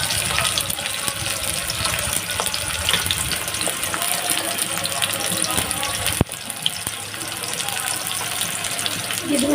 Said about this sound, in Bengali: এখন আমি আলুটা হালকা ভেজে নেব, ভাজতে থাকবো।